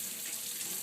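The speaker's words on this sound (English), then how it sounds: "And then we're just going to rinse it." Running water from a tap rinsing a part from a Fresh Air purifier, a steady, continuous hiss of flowing water, close and fairly loud, with no talking.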